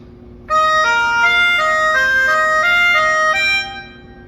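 A bright music box plucks a short melody of about nine distinct notes in steady succession, then rings out and fades.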